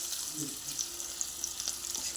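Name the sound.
turmeric added to hot oil, sizzling tempering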